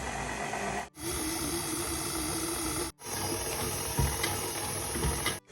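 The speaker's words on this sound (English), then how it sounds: "Dough hook, and we're going to mix this now for about 12 to 15 minutes" A stand mixer fitted with a dough hook kneads crispy bread roll dough, giving a loud, constant mechanical whirring and grinding that stops briefly twice.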